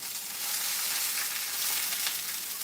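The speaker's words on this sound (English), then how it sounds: "You hear that sizzle?" A steak sizzles in a hot pan with a loud, close, continuous crackling hiss that holds steady throughout.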